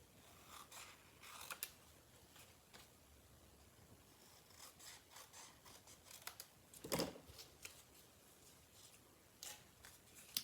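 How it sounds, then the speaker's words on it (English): Scissors trimming excess card stock from a handmade Christmas card, heard as faint, close snips and rustling scrapes scattered irregularly, with one louder cut midway and no talking. "I'm going to trim away some of the excess pieces on the side."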